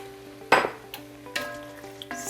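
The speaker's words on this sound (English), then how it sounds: "Stir that up" A pot of gumbo with fire-roasted diced tomatoes being stirred, a few separate scraping, splashing strokes with a soft simmering sizzle underneath, close and fairly quiet.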